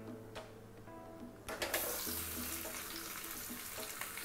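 Water is poured into a pan of prawn roast, a soft trickling splash that starts midway and keeps flowing, faint and close, with no one talking.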